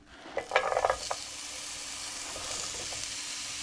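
Peppers are pushed into a hot pan for ground beef or turkey fajitas: a short burst of scraping clatter, then a steady, close sizzle that carries on alone.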